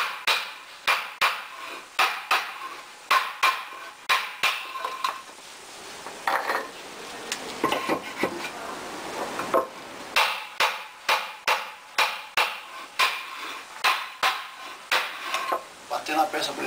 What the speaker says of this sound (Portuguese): Batendo a peça por inteiro.